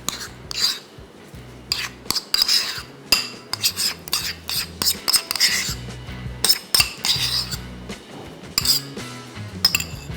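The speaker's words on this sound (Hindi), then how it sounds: "इसको खूब अच्छी तरीके से पहले मिक्स करेंगे और इसके बाद साइड पे कर देंगे" A spoon clinks and scrapes against a bowl while aloo kulcha filling is mixed with butter, making repeated sharp metallic taps in irregular bursts, close and clear, with no talking over it.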